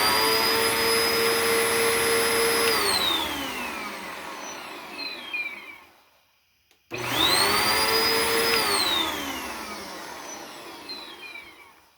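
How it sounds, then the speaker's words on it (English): A vacuum cleaner fires up loud and close for a test run, its motor whining high, then winding down. After a brief silence it starts again for a second run that also fades off. No one speaks. "Let's give you a vacuum test in 3, 2, 1."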